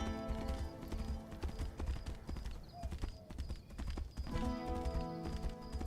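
Horse hooves clip-clop in the fantasy video game Tainted Grail: Fall of Avalon, a steady run of hoof strikes over game music, with a brief pause in the middle before the clopping resumes.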